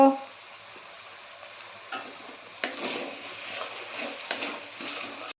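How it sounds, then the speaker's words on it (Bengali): Ground spices for a vegetarian doi potol dish sizzle in a pan, a low steady frying hiss broken by a few scraping stirs and light ticks of the spatula, close and fairly quiet. "মশলাগুলো ভালো করে কষে নেব"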